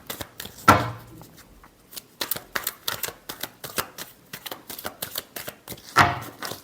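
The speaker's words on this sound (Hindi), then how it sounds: "Last shuffle." Tarot cards being shuffled by hand in a rapid run of crisp, papery riffling clicks and flicks, with two heavier thumps of the deck near the start and end, close and fairly quiet, no voices.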